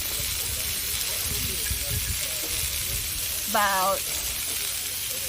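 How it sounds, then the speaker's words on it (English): Beef skewers marinated in hoisin and soy sauce sizzle steadily on an outdoor grill, a constant close hiss with a brief squeak and faint voices underneath. "let's toss in these beef skewers"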